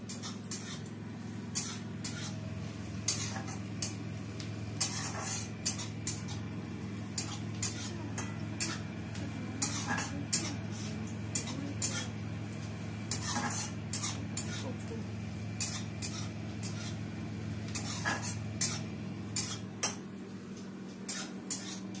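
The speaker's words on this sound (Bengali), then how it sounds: "আলু মাখা হচ্ছে" Potatoes are mashed by hand in a bowl, making soft, repeated squelching taps and faint scrapes of contact against the bowl over a steady low hum, with occasional quiet talk.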